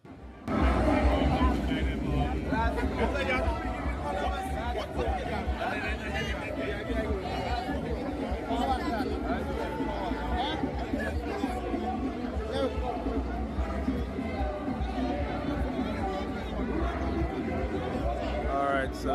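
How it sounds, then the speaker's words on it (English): Massive crowd chattering at Jazz Fest 2026 opening night, the Lucian Jazz & Arts Fest in Saint Lucia: dense, steady babble of many voices close around, with footsteps and bustle throughout. "Opening night, massive crowd."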